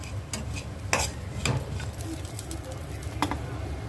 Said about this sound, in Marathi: सुक्या खोबऱ्याला मस्त भाजून देते